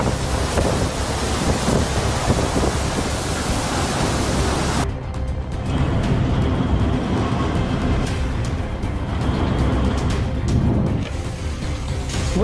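A thunderstorm with heavy rain and violent lightning roars as a dense, steady wash of loud rain noise, with a sharp shift in tone partway through and no voices.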